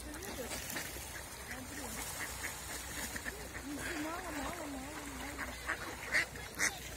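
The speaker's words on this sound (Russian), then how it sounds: "Утки голодные?" Ducks quack and honk near the bank while being fed at a partly iced-over pond in cold water, calls scattered through the clip alongside a speaking voice and a few sharper calls near the end.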